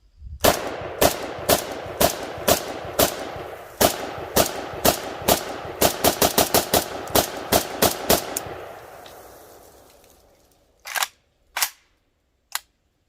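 Rifle fire from a 30-round Bulgarian magazine at an outdoor range: loud, close, sharp shots in a fast semi-automatic string of about twenty, ringing off with echo, then three spaced final shots.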